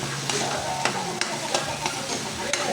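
Chayote (sayote) sautés and is stirred in a hot pan, giving a steady bright sizzle. Spatula scrapes come every half second or so, close and at moderate volume.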